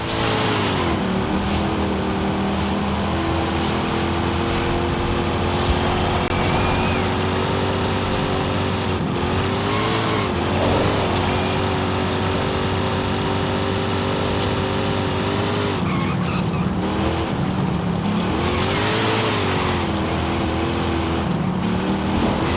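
A worn old car's engine in the racing game Forza Horizon 5 drones steadily and loud throughout, with rising and falling pitch sweeps as it revs and shifts, plus a brief dip mid-drive.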